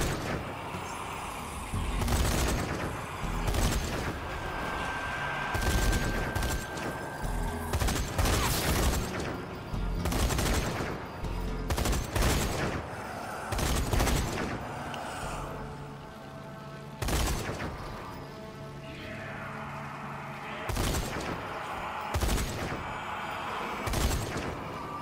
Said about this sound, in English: Always enjoy being able to take out large groups of zombies like this with the turrets.